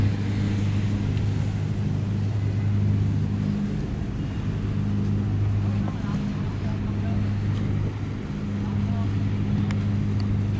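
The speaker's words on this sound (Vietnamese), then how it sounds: "Sao nghe cái tiếng động cơ im gu các bạn ơi, chỉ nghe cái tiếng và phát điện thôi." A boat's engine and an onboard generator run steadily with a low, even drone throughout, with wind and water noise over it on a busy passenger speedboat.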